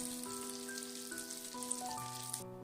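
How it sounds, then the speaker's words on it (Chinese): Zucchini pancakes sizzle softly in a pan as they fry golden on both sides, a faint steady crackle beneath a gentle melody of background music. "这个小馅饼非常的容易熟，大约烙了3分钟，烙至像这样2面金黄就可以出锅了"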